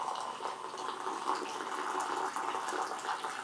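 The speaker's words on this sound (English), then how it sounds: "I like to give it a little extra pour there to aerate the coffee and bring some bubbles up to the top" Brewed coffee poured from a glass siphon pot into a cup, a steady, soft liquid splash and trickle with a faint bubbling edge, close and quiet, no talking.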